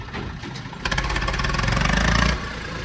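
A tractor engine runs with a steady low mechanical rumble that grows louder and fuller after the first second, holds for over a second, then eases back toward idle, with no talk.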